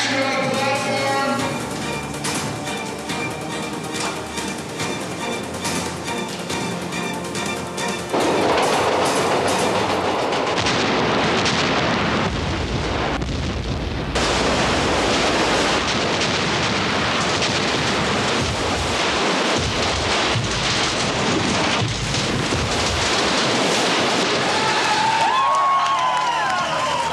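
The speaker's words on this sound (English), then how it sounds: "Here comes the train." A train pulling into a platform on a film set for an action movie, loud rushing and rattling of cars building up and continuing with clatter and rumble, with some voices under it.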